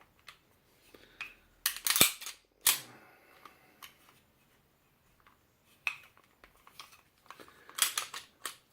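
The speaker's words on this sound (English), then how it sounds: "Dry fire it right quick." A Beretta PX4 Storm 9mm compact pistol is dry fired and handled during cleaning, giving sharp metallic clicks and slide clacks, with two louder snaps near the start and scattered lighter clicks later, close and otherwise quiet.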